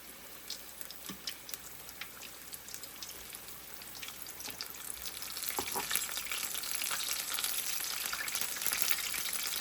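Food deep-frying in hot grease for homemade Chinese takeout-style dishes, a close, continuous crackling sizzle with bright popping bursts that grows louder and denser partway through.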